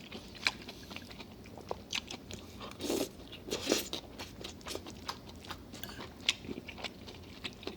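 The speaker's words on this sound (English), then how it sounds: "Let me do a few seconds of mukbang" Close crunching bites and chewing while eating a Southwest pork chopped salad, with irregular crisp crunches and softer mastication throughout, a couple of louder bites midway, no talking.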